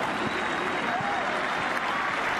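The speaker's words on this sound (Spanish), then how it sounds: "Aplaude el público Gambia." Stadium crowd applauding during a Brazil versus Gambia football match, a steady broadband wash of clapping and crowd noise filling the whole moment at even loudness, with a commentator's voice faintly underneath.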